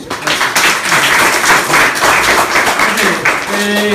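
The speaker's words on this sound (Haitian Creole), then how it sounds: "je demandé de nous applaudir encore une fois" Dense, loud applause from an audience of staff, parents and pupils at a school ceremony runs steadily throughout, with a voice briefly heard near the end.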